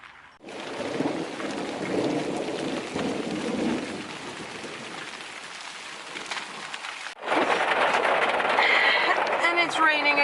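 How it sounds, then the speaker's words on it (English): Heavy rain pours down on a holiday's first day with thunder rolling beneath, a dense steady roar that swells louder and brighter in the final seconds, with no voices over it. "And it's raining again. And then not a little, but just insanely much."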